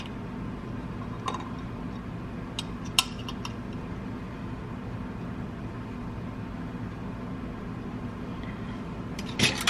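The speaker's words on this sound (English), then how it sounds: "All right, get our lids on." Metal lids set onto glass canning jars filled with hot chicken soup, a few faint clinks and taps spread across a steady hum of kitchen background noise, with a cluster of clatter at the end.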